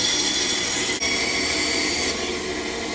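A continuous, loud hand sawing through wood, cutting a board in half for a step stool, with a brief pause in the stroke before the cutting carries on steadily.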